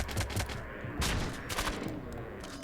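Several rapid shotgun blasts in the colony-sim game Rimworld, a dense burst of crackling reports with a second flurry about a second in, sharp and close, no voices.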